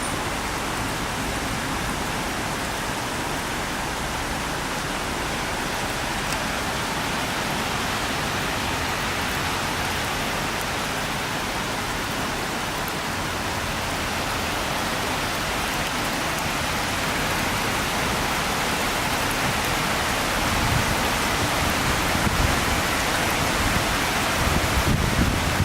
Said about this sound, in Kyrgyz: Сан жаап атат жамгыр.